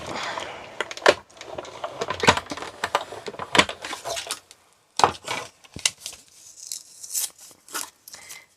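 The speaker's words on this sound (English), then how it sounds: "We just need to run that through the die cut machine just quickly." Card stock being fed through a die cut machine, a series of sharp clicking, crunching and rolling noises with irregular bursts and short pauses, close and alone without talk.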